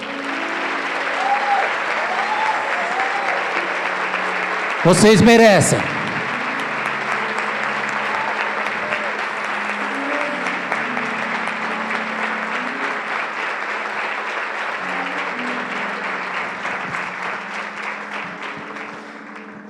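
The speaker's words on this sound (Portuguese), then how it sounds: "Vamos aplaudir." A church congregation applauds together in sustained, steady clapping that fills the room, with a brief spoken line rising over the applause.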